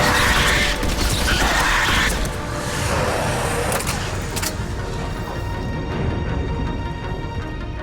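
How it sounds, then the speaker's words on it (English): Elevator arriving in the video game Mass Effect on Omega, a dense mechanical grinding and creaking with clanks and whirring that gradually settles into a lower hum. "Elevator's on its way."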